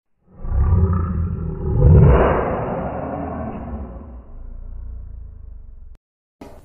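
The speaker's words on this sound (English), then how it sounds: "L for lion." A lion lets out one long, deep roar that swells to a peak and then fades into a rumbling tail before stopping abruptly.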